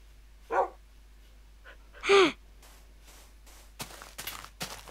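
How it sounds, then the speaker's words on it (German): Dogs in the video game Minecraft give two clear, separate barks close by, followed by a run of faint clicks and scuffles, no speech. "Noch mal Hunde."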